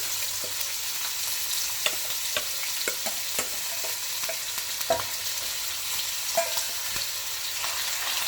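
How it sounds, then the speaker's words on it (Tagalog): Pork belly sautés in hot cooking oil in a pan, giving a steady close sizzle with scattered pops and crackles and occasional stirring clicks, with no talking. "We're just gonna saute the pork."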